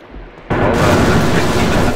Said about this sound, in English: A double kill by Thaggris on the explosion with the RPG.